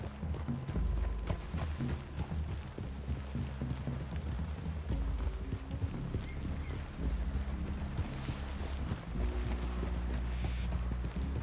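Horse hooves clip-clop steadily over a low rumbling background in the video game Red Dead Redemption 2, with a few faint high tones drifting in and out.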